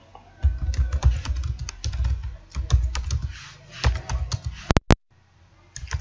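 Close fingers type on a computer keyboard in uneven bursts of quick clicks and clacks, pausing now and then, with a couple of sharper isolated taps partway through.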